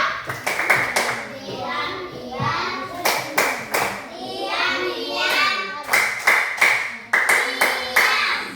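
Children in a classroom clap their hands in short rhythmic bursts of several claps, separated by stretches of a voice speaking, fairly close and moderately loud.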